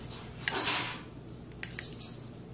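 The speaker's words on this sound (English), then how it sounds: "Y'all hear that crispy crust?" Utensil cutting into the crispy, flaky crust of an apple dumpling with cinnamon and nutmeg, a brief close crunch followed by a few light scraping crackles.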